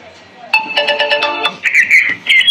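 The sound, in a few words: key finder ringtone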